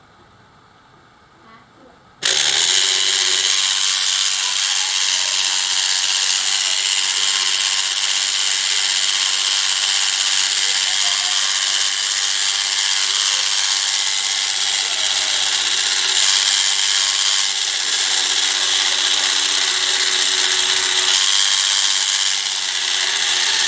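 A motorized scale model of a giant root project runs its gears with a constant, loud, close mechanical whir. The whir starts abruptly after a quiet opening and holds steady to the end.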